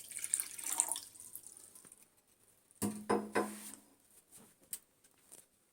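Water is poured into a pot for a carob drink in a home kitchen, with faint splashing and trickling, then a brief louder burst of pouring and a few drips afterwards.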